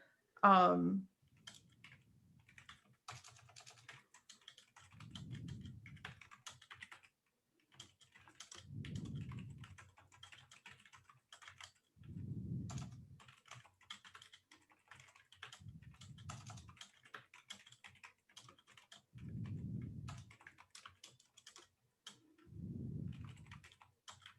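Code typed on a computer keyboard during a developers' meeting, a steady stream of light, close key clicks with brief pauses, while low muffled voice-like murmurs rise at regular intervals.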